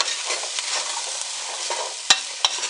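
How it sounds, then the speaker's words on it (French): Spaghetti sauce with cinnamon being stirred in a pot, giving a soft, steady scraping rustle with two sharp clinks of the spoon against the pot near the end, close and fairly quiet. "Je vais mélanger ça ici."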